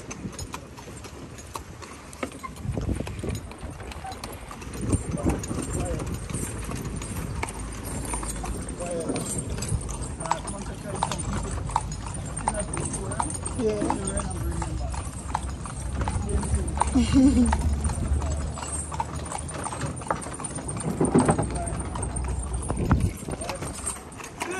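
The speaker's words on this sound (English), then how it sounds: "See the horse, see?" Horse hooves clip-clop steadily as a horse pulls a cart in Guyana, a continuous close rhythmic clatter with occasional whinnies, while people talk throughout.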